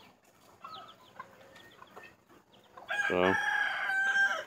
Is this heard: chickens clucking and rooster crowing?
yes